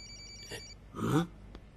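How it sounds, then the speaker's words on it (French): A mobile phone rings once in a short, fairly quiet electronic burst, with a higher tone and then a brighter chime, against a low background hum. "Et c'est le téléphone de Natalia"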